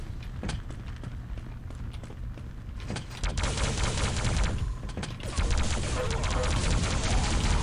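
Rapid gunfire rattles through a Quake 3 match, dense continuous bursts that grow louder and fuller midway, layered over clattering game effects and footsteps.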